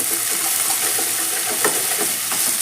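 Tomatoes with a carrot and bean fry cook in hot oil, making a loud, continuous close-up sizzle with a few faint stirring clicks and no voices.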